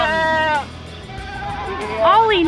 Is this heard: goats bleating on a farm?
yes